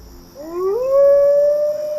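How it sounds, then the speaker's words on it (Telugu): A dog howls at night in one long, rising, drawn-out wail that swells and holds, clear and fairly close in a quiet film scene. "ఏంట్రా అది కుక్క?"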